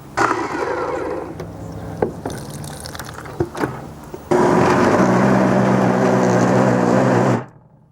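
Blendtec blender pulverizing banana peels and water, first a few thumps and choppy grinding, then a loud steady whirring roar for a few seconds before cutting off abruptly.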